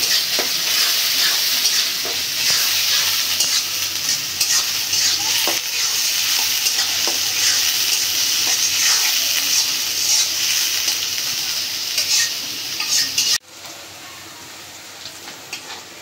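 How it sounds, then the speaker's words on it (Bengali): Chopped onions and green chilies fry in hot oil at a village cooking setup, giving a steady, loud sizzle with scraping stir strokes throughout that cuts off abruptly near the end. "পেঁয়াজটা ভাজা নেব।"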